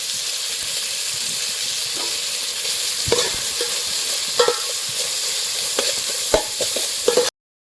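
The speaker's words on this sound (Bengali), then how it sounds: "এতে সব মশলা টশলা ভাজা হয়ে গেছে" Whole spices, cashews, coriander leaves and curry leaves fry in ghee for a liver khasta biryani, a continuous close sizzle broken by intermittent scraping knocks of a spoon stirring the pot.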